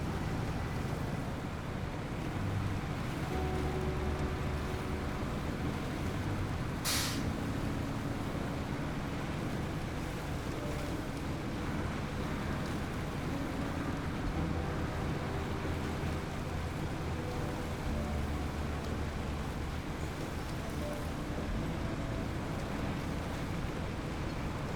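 A truck in the video game SnowRunner climbs uphill in Ontario, its engine giving a steady, unbroken low drone and rumble throughout with no talk.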